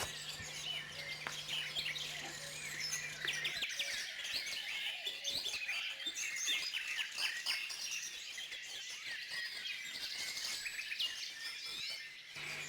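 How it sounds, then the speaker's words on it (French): A spotted flycatcher perched on a dead branch or wire gives short, sharp calls, repeated in quick bursts over faint insect-like background chirping, fairly close and clear. "Avez-vous jamais remarqué l'oiseau gobeur de mouche qui, perché au-dessus des têtes, sur une branche morte ou sur un fil, ne cesse de lancer un cri bref?"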